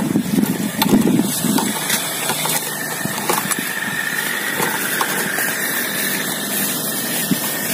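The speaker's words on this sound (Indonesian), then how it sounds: "Pompa air hidup. Jadi ribut di sini bunyinya." A water pump engine running close by outdoors, a loud steady drone with a low throbbing at first that settles into a continuous hum.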